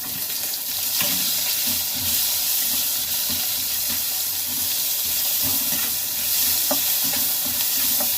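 Chopped onion frying in a hot pan, loud dense sizzling with intermittent spoon stirring and scraping, a steady hiss throughout with no voices.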